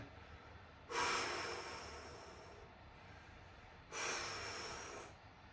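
Two long, deep breaths rush in and out during a kettlebell workout stretch, each one close and breathy, filling about a second and a half, separated by a quiet pause.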